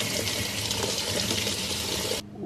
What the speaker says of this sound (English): I need to run this under hot water. So let's get some hot water going.